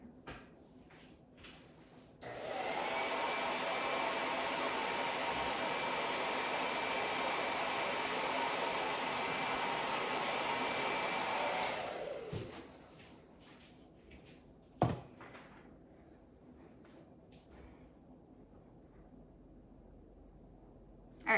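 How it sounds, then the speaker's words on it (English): A hair dryer blows on a wet craft house, a loud steady whoosh that starts abruptly, runs about ten seconds and cuts off, followed by quiet handling and a single knock. "I'm gonna go hair dry it."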